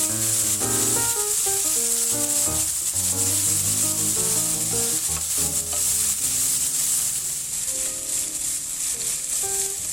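Onions and shallots frying in a pan sizzle steadily while a utensil stirs and scrapes through them, under background music.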